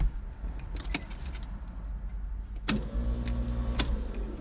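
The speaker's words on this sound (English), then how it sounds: "if I turn the ignition on, you should be able to hear the pump" A Toyota Supra's fuel pump hums steadily with the ignition switched on, fitted with a dual fuel pump relay; a steady tonal drone starts partway through after a click and continues alongside faint jangling, with no talk.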